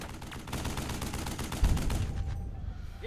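Rapid crackling rifle and machine-gun fire from a battle in the Burden of Command video game, a dense, steady volley with one heavier thump midway before it thins out.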